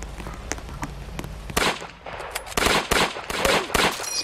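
Gunfire in the Roblox video game Juno Beach: a series of sharp shots spread irregularly across the clip, some near and loud, others fainter, over a busy battle background.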